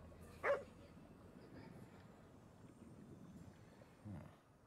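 A dog in a video game gives two short barks, one early and one near the end, faint against a low ambient background with no talk.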